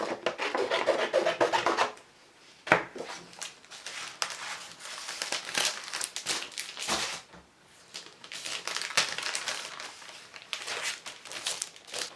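Scrap textured cardstock being cut down in a papercraft session, giving close, steady rasping scrapes and rubs in bursts with brief pauses, no talking.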